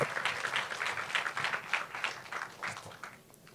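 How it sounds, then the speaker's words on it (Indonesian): Audience applause for a guest speaker at a 2023 career talk show, a steady wash of many hands clapping that holds for several seconds and tapers slightly toward the end. "Kita berikan tepuk tangan untuk Bapak Rudi Hidayat"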